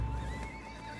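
A short horse whinny in the Roblox video game, steady and fairly loud over a low rumbling background, lasting about a second.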